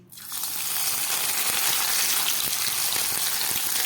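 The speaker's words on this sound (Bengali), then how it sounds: "এবার এই গরম তেলের মধ্যে আমি হালকা ভাপিয়ে রাখা ফুলকপিগুলো ভেজে নিচ্ছি।" Lightly steamed cauliflower, already seasoned with salt and turmeric, going into hot oil, bursting into a loud, steady, bright sizzle right after a quiet start and holding evenly to the end.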